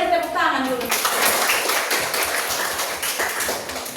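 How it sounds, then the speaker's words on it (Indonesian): A classroom of children bursts into rapid, crowded clapping after a brief spoken voice, the patter of many hands carrying on loud and close. "Oke, beri tepuk tangan dulu"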